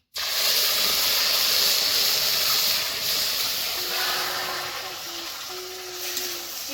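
Sugar and water heating in a hot pan for apple chutney, giving a loud, steady sizzling hiss that fills the whole stretch and eases slightly toward the end.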